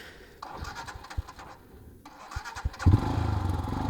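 A Royal Enfield Himalayan BS3 motorcycle, a non-ABS model, cranks with a few sharp starter clicks and sputters before its engine catches and settles into a loud, steady idle through the exhaust.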